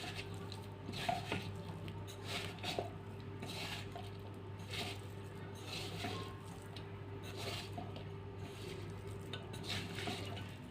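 Ivy gourd pieces are tossed with masala in a bowl for Dondakaya 65, making a soft, continuous rubbing and scraping with light clinks against the bowl. The sound is quiet and steady, with a low hum underneath.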